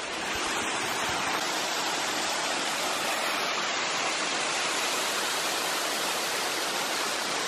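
Steady, dense roar of a waterfall at Mae Kampong in Chiang Mai, a loud broadband rush that holds unchanged from start to end with no voices over it.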